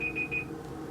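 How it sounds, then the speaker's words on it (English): A kitchen timer alarm rings in short bright electronic beeps, three quick bursts close by, then stops, with a low steady room hum underneath. "I don't know if you'll hear the timer"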